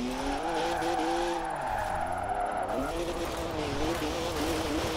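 BMW Z4 roadster in Forza Horizon 4 cruising on a street drift tune, its engine droning steadily with pitch rising and falling through shifts, a brief tire squeal mixed in, continuous and close throughout.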